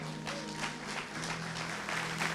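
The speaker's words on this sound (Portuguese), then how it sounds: "Aplauda ao Senhor" A church congregation at a Portuguese-language worship service claps in a brief, moderately loud burst, with a sustained voice or tone running underneath.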